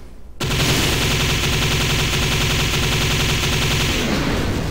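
Sustained rapid automatic gunfire from a weapon in the video game Black Rock Shooter starts abruptly after a short lead-in and then continues as a dense, loud, continuous rattle to the end.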